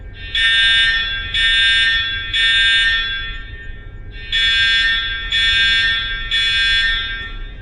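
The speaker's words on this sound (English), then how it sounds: "Why is the fire alarm going off?" A hotel fire alarm sounding in loud, shrill electronic bursts, three evenly spaced blasts, a short pause, then three more, close and alone with a low hum underneath.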